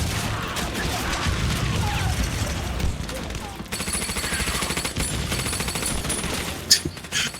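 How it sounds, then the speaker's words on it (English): Gunfire and mortar fire from a Hearts of Iron 3 battle rattle in dense, continuous bursts with heavy booms, loud and unbroken, masking anything underneath. "everything was drowned out by just like gunfire and mortar fires"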